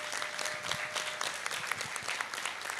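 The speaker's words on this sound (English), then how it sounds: "give them another clap" Applause from the audience at a 2024 gender and human rights moot court event for a Gulu law school team, a steady patter of many hands clapping at moderate distance, continuing without voices.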